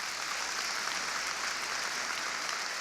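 Steady, even applause from an audience at a National Urban League address, a continuous wash of many hands clapping at moderate distance with no voices over it.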